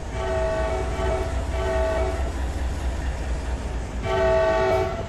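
A locomotive horn in the Run 8 train simulator game sounds three loud chord blasts, two short and one after a pause, over a steady rumbling engine, with no talking.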